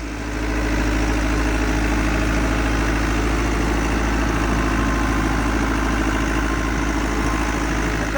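An 850 tractor engine runs steadily while pulling a 12 ft rotavator, a loud, continuous low drone with no talk.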